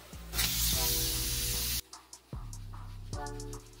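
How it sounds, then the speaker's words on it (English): Spray foam insulation blasted from a spray gun in a loud, close hiss lasting nearly two seconds, then several short bursts with a steady mechanical hum underneath. "Spray foam insulation."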